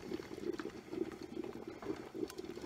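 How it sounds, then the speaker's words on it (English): Water at a rolling boil in a home canner, faint bubbling and pattering with soft periodic blips, quiet and close, with no talk. "You notice that the water is boiling in there"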